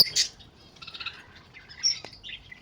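Pet birds such as lutino pairs chirping at the Lalukhet Sunday bird market, scattered high tweets and short squawks over a faint crowd murmur.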